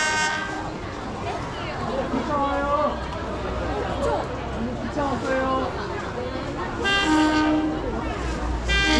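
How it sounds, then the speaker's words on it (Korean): A train pulls into a station in Taiwan with a steady loud rumble of wheels and a drawn-out tonal horn or whistle, while people chatter excitedly nearby. "기차 옵니다. 기차 와요."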